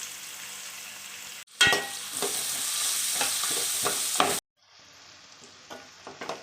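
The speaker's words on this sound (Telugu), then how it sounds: "అలాగే ఉల్లిపాయలు కూడా వేసుకొని బాగా వేయించుకోవాలి" Green chillies, curry leaves and onions hit hot oil in a pan with a sudden loud sizzle. A bright frying hiss and scraping stirs follow, then the sound drops to a softer sizzle.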